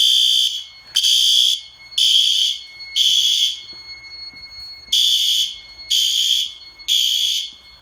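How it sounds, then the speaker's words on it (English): A loud, shrill commercial fire alarm horn blasts in a repeating pattern of three pulses, a pause, then three more, piercing and close. "So we go ahead and trigger this fire alarm without scaring the neighbors off."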